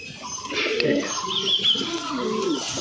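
Giribaz pigeons coo softly and repeatedly at close range, with low, throaty, rolling calls over a quiet indoor background.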